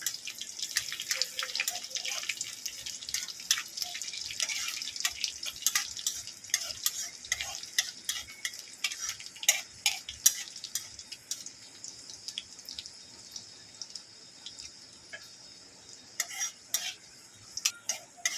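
Dry red chilli, chopped garlic and nigella seeds frying in hot oil in a kadai for masoor dal, a steady close sizzle and crackle with clinks of a stirring spoon against the pan, no voices.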